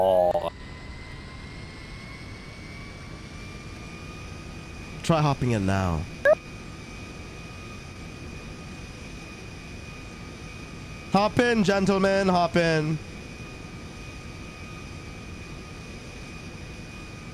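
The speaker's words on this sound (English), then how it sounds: "The plane is super loud." A plane in GTA roleplay drones loudly and steadily throughout with a constant engine hum, while someone speaks in two short bursts over it.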